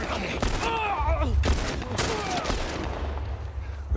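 Turret fire in The Last of Us Part 1 on PC: a few sharp heavy shots boom out among rumbling combat noise, while voices shout and call out over the shooting.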